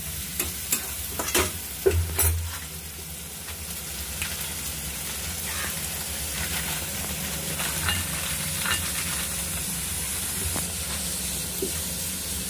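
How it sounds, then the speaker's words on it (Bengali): Masala spices fry and sizzle in a pan while being stirred, with a constant hissing sizzle and a few sharp scraping clatters of the spoon near the start. "যাই হোক, আমি মশলাটা ভালো করে কষিয়ে নেব।"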